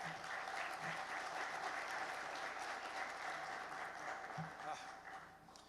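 Audience applause at a mining industry dinner event welcoming a guest speaker, sustained clapping filling the room with a few louder individual claps, fairly quiet overall.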